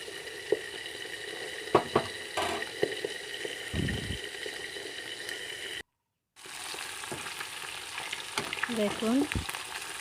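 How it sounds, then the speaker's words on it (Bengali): Oil sizzles steadily in a pan as pointed gourd is stirred while frying, with occasional scraping and clinks of a utensil; a brief silent gap breaks the sound. "ভালো করে নেড়ে দিচ্ছি আস্তে আস্তে দেখুন"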